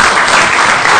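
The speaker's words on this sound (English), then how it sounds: "Give a big round of applause." A city council meeting audience claps steadily for a color guard student, a dense, even wash of applause held at constant loudness for about a second with no voices.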